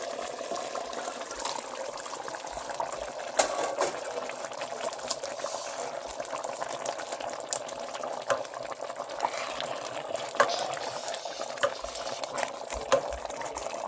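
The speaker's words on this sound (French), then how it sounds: "Je vais laisser mijoter avec les légumes 10 minutes" A pot of goat meat sauce with tripe and vegetables simmers steadily, giving a soft, continuous bubbling hiss with scattered small pops, close and even throughout.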